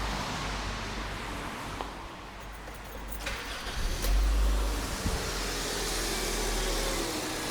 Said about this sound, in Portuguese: Agora deixa eu ligar o carro.